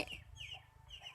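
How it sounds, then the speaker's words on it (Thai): A rooster crows and clucks in a rural setting, several short rising calls repeating at a moderate distance over faint background noise. "เสียงไก่ขันอะไรอย่างนี้นะครับผม"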